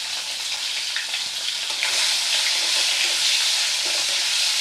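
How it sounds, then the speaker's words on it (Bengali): Fish pieces coated in salt and turmeric fry in hot oil in a pan, giving a steady, close, bright sizzle that swells louder partway through, with no talking. "এই যে মাছে নুন হলুদ মাখিয়ে নিয়েছি, এটাকে আমি ভেজে নেব।"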